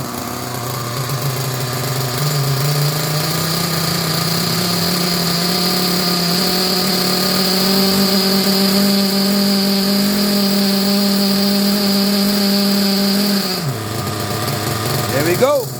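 A Team Associated RB nitro engine running during break-in, a loud, steady high-pitched buzzing drone up close that drops off abruptly near the end, followed by a brief throttle blip.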